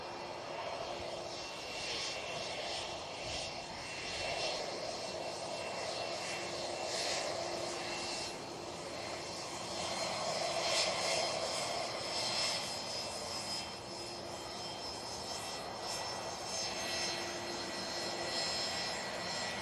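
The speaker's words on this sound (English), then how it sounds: "we've got a little BizJet. It's a little PC-24 for Silver Aviation." A Pilatus PC-24 business jet taking off at Manchester Airport, a steady loud engine roar with a whining tone heard from nearby that swells and holds throughout.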